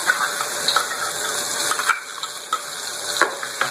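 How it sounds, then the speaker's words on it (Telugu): Spice paste frying in hot oil for a stuffed eggplant curry, a steady close sizzle with scraping spoon strokes and light metallic clinks against the pan. "ఈ ఆయిల్లో ఫ్రై అవ్వేస్తాం ఒక్క నిమిషం"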